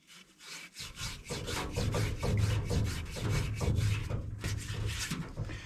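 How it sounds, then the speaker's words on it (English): A Scotch-Brite pad scrubs the valve seats of a cast cylinder head from a 1986 Ford F250 351 Windsor, giving a steady run of close, rhythmic abrasive rubbing strokes with no talking. "Nice thing about this Scotch-Brite pad thing, We're not going to damage that seat area. We're just going to give it a good cleaning."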